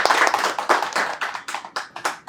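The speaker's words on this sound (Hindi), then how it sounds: "तो एक बार जोरदार तालियां हो जाए हमारे प्रशांत सर के लिए।" A small group applauds the AC repair course teacher at a training centre, about a dozen distinct, sharp bursts of hand clapping that thin out into scattered claps, close and loud with no talk.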